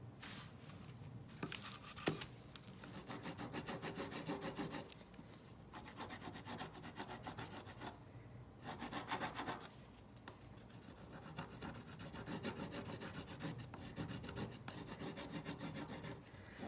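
Mirror backing is scraped off onto a sheet of foil in a steady, continuous rasping rub that runs nearly the whole time with a few short pauses, close up and quiet, with no voices.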